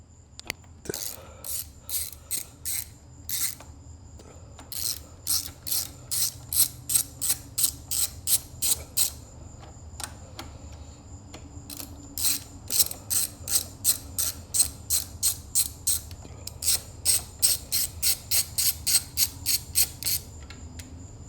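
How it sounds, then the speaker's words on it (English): Rapid, regular ratchet clicking from a 3/4-inch ratchet with a long extension and 8mm Allen socket, working a bolt loose on a Honda CBR650R motorcycle, in repeated close, crisp bursts with short pauses between strokes. "8mm Allen key on a socket with a long extension on a 3/4 inch ratchet"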